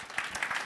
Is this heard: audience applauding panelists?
yes